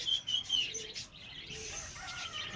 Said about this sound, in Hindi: हमारे उड़ते हुए कबूतर, ये देखें इनको उड़ाने का तरीक़ेकार